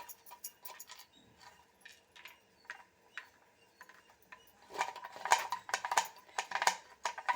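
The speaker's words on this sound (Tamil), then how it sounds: "இந்த அல்வா மேலே தூவுறதுக்கு இந்த மாதிரி முந்திரியை துருவி வச்சுக்கோங்க" Cashew nuts grated against a knife blade for topping bread halwa, a run of light close scraping ticks and rasps, sparse at first and then denser and louder, with no talk.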